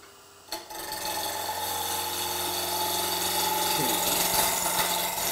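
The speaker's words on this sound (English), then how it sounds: "as I'm cutting on this, I'm going to rotate the gouge slightly one way or the other to feel how the wood cuts" A wood-turning gouge cuts a spinning workpiece on a lathe, giving a loud, steady, rasping scrape over a constant motor hum that starts after a brief quieter moment and continues to the end.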